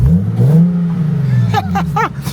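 Car with a Nissan VQ engine revving with a deep, steady exhaust drone that rises and falls, close and loud, while a voice speaks briefly over it near the end.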